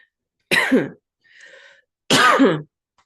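Two loud, close throat-clearing coughs separated by a short pause, with a soft hiss between them.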